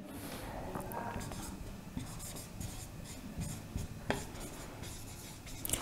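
Handwriting during a class 12 physics lesson on electrostatics: steady pen or marker strokes scratching across a writing surface, close and continuous for several seconds, with no talking.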